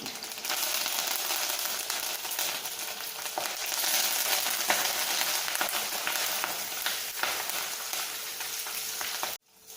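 Green chillies and curry leaves fry in hot oil in a pan, a steady close-up sizzle that holds at an even level for several seconds and then cuts off abruptly.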